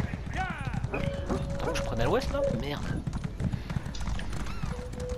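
Horse hooves clip-clop in Elder Scrolls Online during a Vvardenfell Santa race, a steady galloping rhythm running under game music and someone talking in French.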